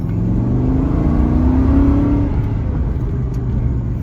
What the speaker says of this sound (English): I'm gonna do one more pull for